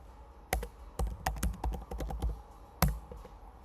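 Typing a web search on a computer keyboard: a quick run of close, crisp key clicks in uneven bursts, with a final isolated tap after a short pause.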